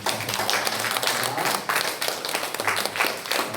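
A church congregation at a Korean praise worship service claps in thanks for a pastor and an evangelist: dense, steady applause at moderate loudness, with no talking over it.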